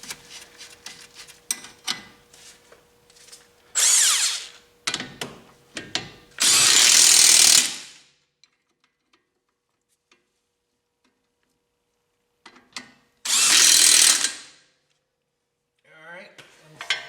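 An impact wrench works the control arm bolts on a Volvo XC90, with two loud sustained rattling bursts about a second or two long and a third later, between clinks of tools and metal and some talk.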